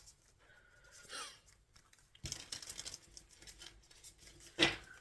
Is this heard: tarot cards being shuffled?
yes